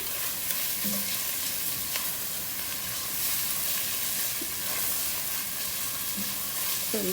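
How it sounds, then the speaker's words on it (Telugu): Ginger garlic paste fries in hot oil for a sorrel-leaf paneer pulao, giving a continuous, dense sizzle and crackle close by, with faint scraping of the stirring spoon and no talk. "ఇప్పుడు నేను ఒక one and half table spoon ginger garlic paste ఉంటుంది ఇది వేసేసుకుంటున్నాను ఇది మంచిగా పచ్చివాసన వెళ్ళేలాగా ఫ్రై చేస్తున్నాము"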